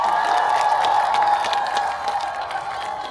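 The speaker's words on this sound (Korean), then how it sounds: "SBS 제작진 분들께 큰 박수 부탁드립니다" A crowd at an outdoor Hangul Day cultural performance at King Sejong's tomb in Yeoju applauds in a dense, steady wash of clapping. A sustained tonal hum stays underneath.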